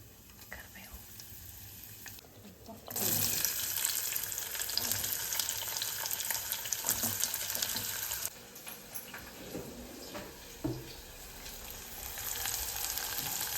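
Mustard seeds, cumin and curry leaves hit hot oil in a home kitchen and break into a steady, fairly loud crackling sizzle, stronger from about three seconds in, with faint pops and soft background voice sounds.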